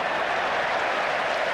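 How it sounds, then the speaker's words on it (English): A big stadium crowd at a 1999 Rugby World Cup match between England and Tonga lets out a loud, sustained roar of cheering and applause, dense and continuous with no pauses. "Big cheer from the crowd as the Tongans get a touch of their own medicine."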